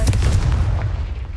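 Blasting curse going off in a Hogwarts wizarding video game, a single loud, deep booming explosion with a sharp onset that rumbles and fades over about a second.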